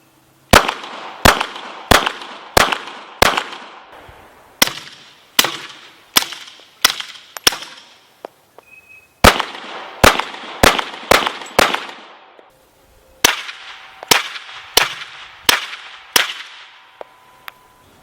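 Suppressed 9mm gunshots fired through a lightweight Liberty Infiniti titanium suppressor, loud and close, in quick strings of sharp cracks with short pauses between groups and a brief ringing decay after each shot.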